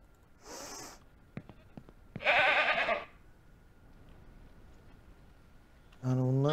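Goats in the farming video game Ranch Simulator bleat in separate calls: a short cry, a louder one about a second long, then another starting near the end. Faint clicks fall between them.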